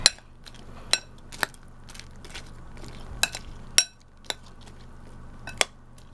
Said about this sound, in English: Alright, we'll just add that in there and stir that.